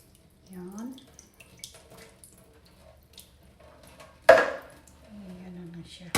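Water strained off opened young coconut for a buko salad, quiet trickling and splashing with one sharper burst of pouring near the end.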